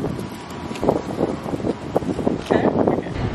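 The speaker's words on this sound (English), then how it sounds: "It's a little windy, I'm sure you'll probably hear that in the background" Gusty outdoor wind buffets the microphone in a steady broadband rumble with swelling gusts throughout, loud and close.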